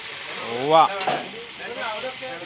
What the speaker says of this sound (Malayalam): അതിൽ ഞാൻ ഒന്ന് ഗ്ലേസ് ചെയ്യാൻ പോവാണേ നമ്മുടെ സ്റ്റേക്കിനെ